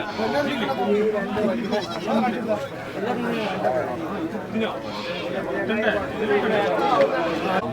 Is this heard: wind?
no